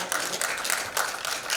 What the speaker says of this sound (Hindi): हम उनका जोरदार तालियों के साथ स्वागत करना चाहेंगे